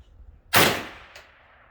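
.22LR rifle shot striking a metal target: one sharp crack, then a brief faint metallic ping about half a second later.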